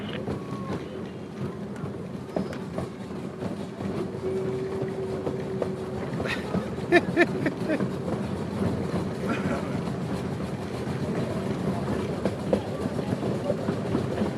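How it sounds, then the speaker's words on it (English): A steam train rolls steadily along the rails in Los Gatos, California, a continuous rumbling ride with faint rhythmic clatter and a brief whistle-like tone, while voices talk over it. "do you like when it goes choo-choo?"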